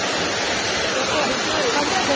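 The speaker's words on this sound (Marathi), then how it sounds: "आता इथे जो पडतोय धबधबा," Water cascading down a roadside waterfall in Konkan, near the Savitri river, makes a dense constant roar close up, with muffled voices faintly mixed into the rush.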